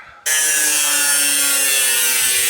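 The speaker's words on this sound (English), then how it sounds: "Cut this through with the disc once again." A cutting disc on a power tool grinds through material during custom glass work, starting abruptly and then holding a loud, steady, bright high-pitched whine with no talking.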